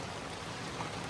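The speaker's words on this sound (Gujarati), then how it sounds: "વરસાદ ચાલુ જુઓ" Steady rain patters and hisses on surfaces nearby on the way to a fair during the Dashama festival, an even wash of droplets throughout.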